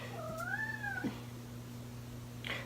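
A single cat's meow, rising and falling over about a second, stands out against a steady low indoor hum, followed by a faint rustle.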